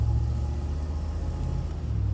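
Deep, steady rumble of a 1987 Range Rover 3.9-litre fuel-injected V8 with three-speed automatic, idling or cruising close by, low and continuous with no voices.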